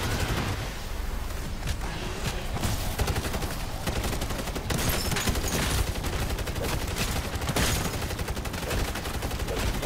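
Rapid, continuous gunfire from zombie shooting in Modern Warfare Zombies, dense overlapping shots and bursts filling the whole stretch at steady loudness with no voice.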